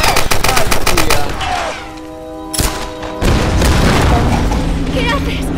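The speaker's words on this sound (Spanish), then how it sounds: "Con un disparo de 6 milímetros" Rapid gunfire in the Tomb Raider Definitive Edition game, a burst of loud repeated shots followed by a pause, then another sharp blast and renewed heavy firing, with speech heard alongside.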